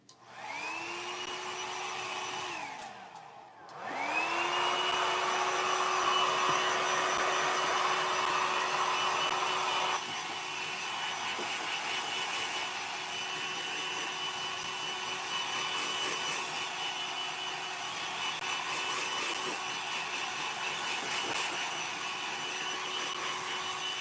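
A hair dryer blows steadily to dry wet paint, running loud and continuous close by; it cuts off briefly near the start, spins back up and keeps droning with a slight shift in tone partway through.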